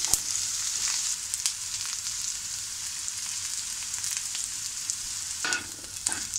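Onion is sautéed in a pan for misal, a quiet steady sizzle with several sharp spatula scrapes and taps, heard close and alone with no voices.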